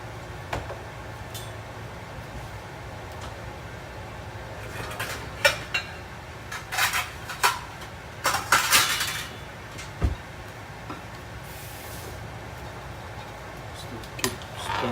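Pork and shrimp wontons stirred in a pot of boiling water: quiet ladle scrapes and a few clinks against metal come in short bursts over a low simmering background, with no speech.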